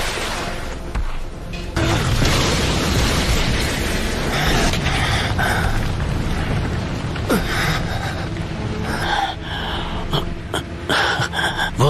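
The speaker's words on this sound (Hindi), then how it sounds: "Fire style dragon flame jutsu." An anime fire-style dragon flame jutsu explosion makes a loud, sustained roaring blast with rumbling and whooshing bursts that fill the whole span, layered with dramatic effects and no clear talk.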